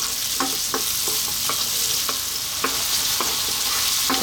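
Onion fries in a pan on medium heat, giving a steady close sizzle with periodic soft scraping stir strokes, and no voices.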